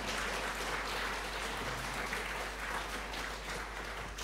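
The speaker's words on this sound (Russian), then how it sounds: "Дамы и господа, я предлагаю вам бурными аплодисментами встретить Андрея Курпатова" A studio audience applauds steadily to welcome a guest speaker onto a book-program broadcast, a dense, even wash of clapping that holds at a constant level throughout.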